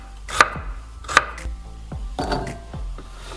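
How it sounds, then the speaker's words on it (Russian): A knife dices a carrot, cut into quarters, into cubes on a board, giving a few sharp, close chops spaced irregularly, with softer knocks between them. "И вот на вот такие вот кубики нарезаем всю морковку."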